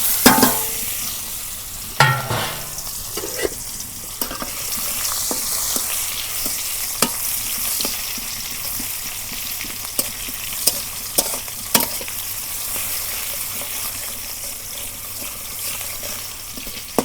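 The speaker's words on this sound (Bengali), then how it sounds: "তেলের মধ্যে মশলাগুলো ভালো করে ভাজা নিই" Black cardamom, cloves, bay leaf and onion fry in oil in a pot over a clay stove. A steady sizzle runs under repeated scraping clicks from stirring, with one louder burst near the start.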